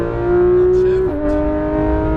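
A Porsche 911 GT3 RS of the 991 generation on a race track, its engine holding a loud steady drone that drops in pitch after a shift, then carries on strongly.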